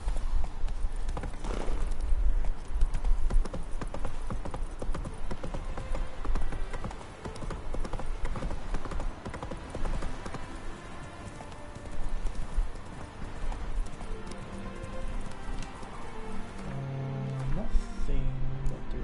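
Horse hooves galloping in The Witcher 3: Wild Hunt, a fast rhythmic clip-clop pounding close and continuous, with a brief whinny and game sounds mixed in, and a voice talking over it at times.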